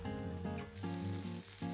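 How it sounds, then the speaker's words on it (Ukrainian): Chicken sizzling in a pan as chopped onion and carrot go in, a steady frying hiss underneath a prominent tonal music bed. "Коли курка вже золотава, додаємо цибулю, потім моркву"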